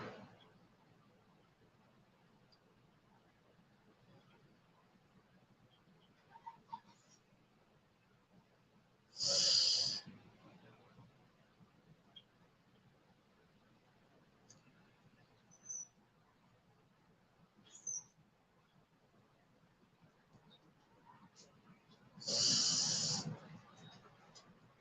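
Slow breaths in and out through pursed lips during a guided breathing exercise, two long airy exhales about thirteen seconds apart, with quiet room tone between them.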